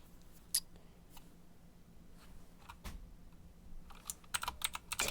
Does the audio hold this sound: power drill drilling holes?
no